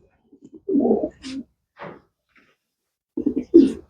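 Racing pigeons from a long-distance champion's loft coo in a few soft, throaty bursts with gaps between them, close by and alone, with no voices.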